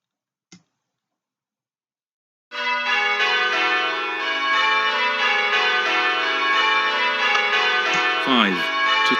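Church bells from a bell-ringing app peal in a rapid, steady sequence of overlapping metallic strikes, loud and ringing on continuously after a single tap, as call changes are rung.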